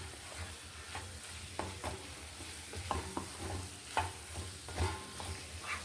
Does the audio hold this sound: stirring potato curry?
yes